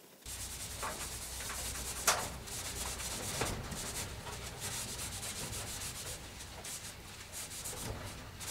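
Cloth rubbing oil finish into porous blackwood on a nylon-string acoustic-electric guitar, a close, continuous brushing swish with steady strokes and an occasional sharper scuff, with no one talking.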